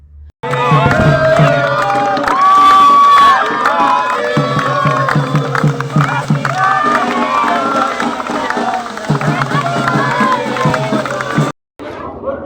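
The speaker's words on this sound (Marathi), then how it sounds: "केक कापला तेव्हा उपस्थितांनी एकच जल्लोष केला" At a birthday celebration for an advocate, a crowd cheers and shouts loudly as the cake is cut, a dense, continuous roar of many voices lasting about eleven seconds before cutting off abruptly.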